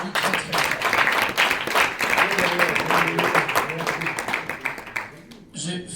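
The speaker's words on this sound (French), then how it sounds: "On l'applaudit très très fort." Audience applause at a USN Benelux sub-section installation ceremony in Luxembourg, a dense, steady wash of clapping lasting several seconds, with a voice speaking over it throughout.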